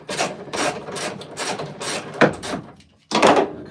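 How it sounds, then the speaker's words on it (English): Tools work against the bolts of an old 66-year-old camper's bedboard as it is unbolted and removed, giving repeated close scraping, rubbing and wooden knocks with a short pause before a final loud scrape. "That one's unbolting nicely, even by hand. So I'm removing the bedboard now."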